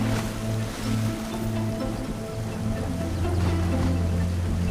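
Wildebeest surge across a river in a migration crossing, a dense, continuous wash of churning, splashing water with low rumbling beneath, heavy and unbroken throughout.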